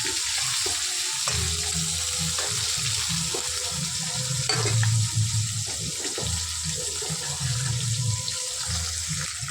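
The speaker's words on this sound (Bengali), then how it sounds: "এইদিকে মাছ ভাজা হচ্ছে" Fish pieces fry in oil, producing a constant hissing sizzle with scattered pops and crackles, heard close and steady for several seconds.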